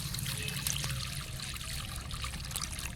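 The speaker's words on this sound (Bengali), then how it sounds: "জল দিয়ে দিচ্ছি।" Water pours steadily into a hot cooking pot during preparation of a Bengali banana flower and fish head curry, a continuous close trickle with no talk.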